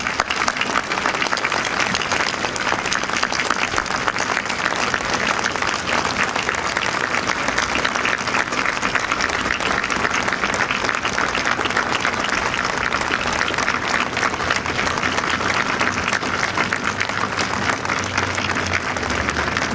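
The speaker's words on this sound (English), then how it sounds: "Please welcome them warmly with your applause." Dense, sustained applause from a large outdoor audience at a national monument dedication, welcoming elderly Holodomor survivors; steady, even clapping fills the whole stretch without pause.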